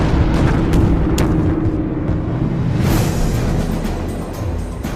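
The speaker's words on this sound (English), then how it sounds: "The Sabres must run a gauntlet of deadly radar-controlled anti-aircraft artillery" Radar-controlled anti-aircraft artillery fire from the Korean War, a dense, continuous roar of heavy guns and bursting rounds with low booming rumble and sharp cracks layered throughout, loud and sustained.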